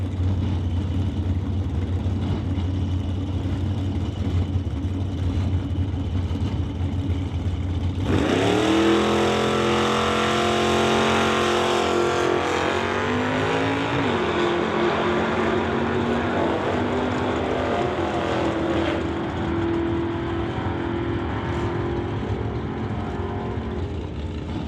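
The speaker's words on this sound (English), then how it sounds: "Racing the full clip Malibu up against Rob Monroe Jr. and the SD Performance Gibson Racing Transmissions Horizon Paint 1969 Acadia" A full clip Malibu and a 1969 Acadia launch in a drag race after a low idling rumble. Engines burst into a loud, rising roar with sweeping gear changes that fade into a distant drone.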